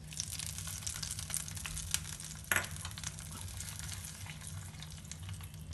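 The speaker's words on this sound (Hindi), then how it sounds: "तड़का चटनी में ऐड करेंगे।" Hot tempering of mustard seeds and curry leaves sizzles and crackles steadily as it hits onion tomato chutney, with a brief louder splash midway, fairly quiet throughout.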